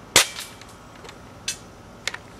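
A UHC Super 9 Pro airsoft sniper rifle fires one sharp, loud crack, followed by softer clicks of the bolt and the shell.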